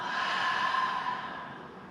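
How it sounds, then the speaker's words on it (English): A slow, audible breath out during a full-body barre workout stretch, a soft airy exhale lasting a couple of seconds over quiet background music. "Take an inhale. And exhale."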